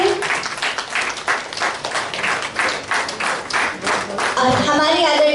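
An audience at a Brahmakumaris World Remembrance Day programme in India claps loudly to welcome the chief guest, a rural legislator, in a dense, rippling burst of applause with a voice heard near the end.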